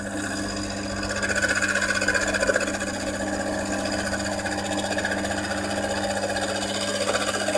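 A wood lathe is turning while a skew chisel cuts the spinning workpiece. It makes a steady, loud, close motor drone with a constant tonal hum and an even rough cutting texture throughout.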